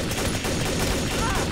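Dense, rapid gunfire in the video game Garry's Mod, a brief loud crackling burst with no clear gaps.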